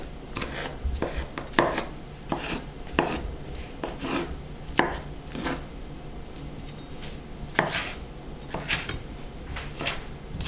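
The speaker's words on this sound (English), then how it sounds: "cut all my vegetables very, very roughly into approximately bite-sized pieces" A knife roughly chopping vegetables into bite-sized pieces on a cutting board for a creamy roasted veggie rigatoni, with irregular close, moderately loud chops and taps continuing steadily throughout.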